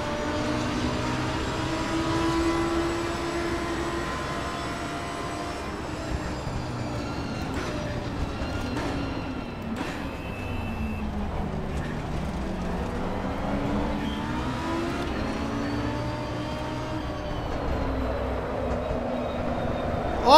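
Lamborghini Huracan race car engine in Assetto Corsa Competizione, revving and drifting with rising and falling pitch through gear changes, a steady loud roar with tyre noise throughout.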